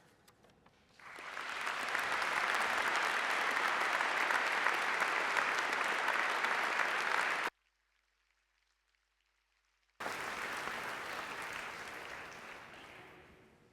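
A graduation audience at the University of Dundee applauds a university choir, a dense, loud, steady roar of clapping that stops abruptly into near silence for a few seconds, then returns and gradually thins and fades.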